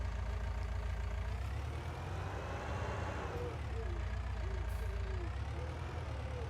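Tractor engine idling in Farming Simulator 19 as a steady low, quiet drone with no change across the stretch. Faint other game sounds sit on top of it.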